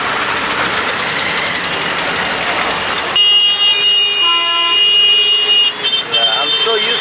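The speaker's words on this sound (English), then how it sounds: "I'm so used to this sound and honking" Rush hour traffic roars with engines and a wailing emergency siren, loud and close, then shifts to horn-like tonal blasts; no one speaks.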